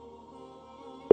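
A phone line drops into a steady electronic busy tone after a call is hung up, a faint continuous hum that ends in a sharp loud click.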